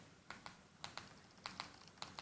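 Keystrokes on a remote keyboard, used to enter a network setup command: about eight quiet, clicky taps in uneven pairs and singles, fairly close, with no talking.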